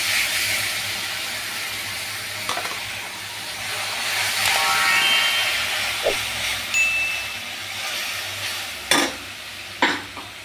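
Bay leaves and tomato paste sizzle in hot oil with turmeric for a chickpea paneer curry, a steady loud frying hiss with a few sharp stirring clicks, no voices.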